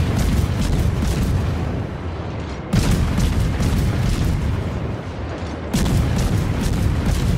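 The Akizuki destroyer in the naval video game World of Warships fires HE shells in a dense, continuous roar of rapid booming gunfire, loud and close, surging in three sustained bursts.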